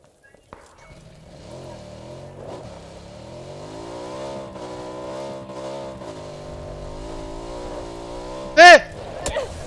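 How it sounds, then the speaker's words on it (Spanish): A motorcycle engine in PUBG on the Miramar map starts and revs up, then holds a steady droning whine with slight pitch swells. Players talk over it, and a sharp squeal near the end rises above the engine. "La moto."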